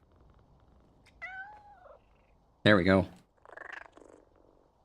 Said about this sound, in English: Can I pet the cat?